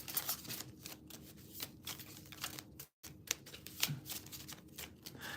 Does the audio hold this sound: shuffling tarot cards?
yes